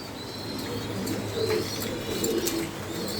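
Pigeons at a pigeon farm in Mirpur, Dhaka, including Damascene and Budapest breeds, coo in soft low repeated calls over a steady background murmur of more birds.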